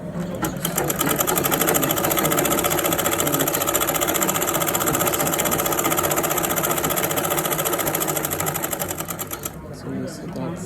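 Sewing machine stitching cargo pants fabric, running loud, steady and continuous for about nine seconds before slowing to a stop, with faint talk underneath.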